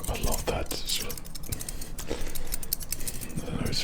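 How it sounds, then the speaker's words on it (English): Metal barbershop scissors snip in quick, crisp clicks with a trickly metallic ring, close and steady throughout, with soft breathy whispering running underneath. "it's sort of just the trickly sound of the metal on the scissors"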